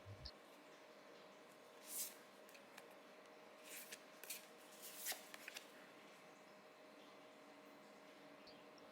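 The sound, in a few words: shuffling a deck of cards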